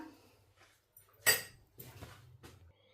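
Ingredients for a Sri Lankan shrimp murukku snack tossed together in a bowl, a few scattered clinks and scrapes, one sharper knock standing out, quiet and close with no talk.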